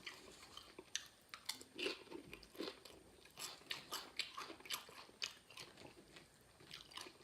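Crunchy Flaming Hot Nacho Doritos tortilla chips being bitten and chewed up close, a steady series of sharp, brittle crunches with no talking over them.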